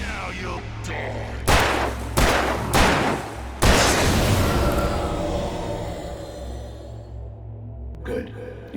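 Gunshots in the video game Alan Wake ring out as four loud, sharp blasts spaced under a second apart, each followed by a long echoing tail that fades slowly, with a faint spoken voice near the end.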